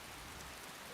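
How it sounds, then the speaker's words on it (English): Steady rain in the video game Skyrim, a dense, even hiss of falling drops filling the short moment with no talk over it. "So, oh, we got rain now."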